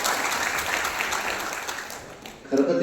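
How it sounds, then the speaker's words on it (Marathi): An audience claps at a state-level award ceremony, giving a dense patter of applause that fades slightly, then a voice rises briefly over the clapping near the end. "फक्त बोलू नका टाळ्या पोचल्या पाहिजे त्यांच्यापर्यंत"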